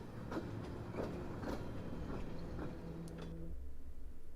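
A train runs in the video game Pathologic 2 with a steady, rhythmic clickety-clack of wheels over rail joints. It is heard as a faint, continuous rolling under the game's background sound and quiets near the end.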